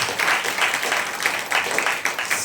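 A church congregation claps during a sermon, a dense, even patter of many hands sustained for a couple of seconds at close range, with no talk over it.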